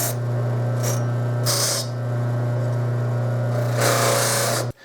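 A buffing wheel polishes a herald trumpet, spinning with a loud steady motor drone broken by bursts of hissy scraping as the brass is pressed against it, cutting off abruptly at the end.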